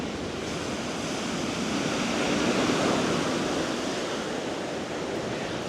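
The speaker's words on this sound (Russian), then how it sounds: "И эту гальку всю постепенно начинает смывать волнами." Continuous washing surf over pebbles on a Crimean beach near Yalta, a steady broadband rush that swells slightly midway, with no voices.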